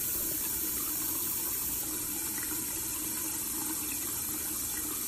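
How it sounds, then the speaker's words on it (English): A faucet in Mississippi runs with muddy, rusty water, giving a steady broadband gush and splatter that holds at constant loudness throughout without any voices. "the viral video shows a water faucet in Mississippi spitting out dirt"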